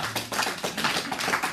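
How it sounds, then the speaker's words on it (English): An audience in a church sermon setting clapping, a dense, steady patter of many hands at moderate distance, continuous for the whole stretch with no voices over it. "Thank you for clapping"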